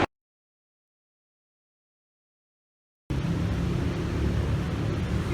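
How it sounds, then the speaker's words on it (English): Steady broadband whirring of ventilation fans in the roof of a football stadium stand, heard alone and fairly loud for the last two seconds after near silence. "you can hear the whizzing fans behind me in the stand roof"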